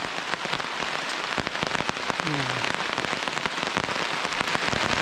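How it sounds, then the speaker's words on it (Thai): Heavy rain pours steadily through a forest on a rainy-season jungle hike, a dense, constant hiss of drops striking leaves and surfaces, close and loud throughout with no pauses. "ฝนตกหนักมากครับตอนเนี้ย"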